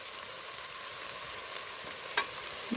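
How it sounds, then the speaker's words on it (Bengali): Spice paste sautéing in a pan, a faint continuous frying hiss with one brief utensil tap near the end. "এবার আমি ভালো করে মশলাটা কষিয়ে নেব"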